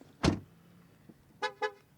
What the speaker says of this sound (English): it was horning because the ignition is on.